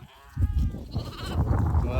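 Goats bleat on a farm field, one close wavering call at the start and more bleats over low rustling and a murmured voice.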